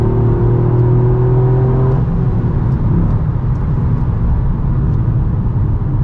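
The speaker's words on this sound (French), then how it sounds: "Ça pousse plutôt bien, on entend le turbo souffler." Toyota Yaris GR accelerating hard, a loud in-cabin engine drone that climbs in pitch, drops at a gear change and keeps pulling, with a faint turbo whoosh under it and no voices.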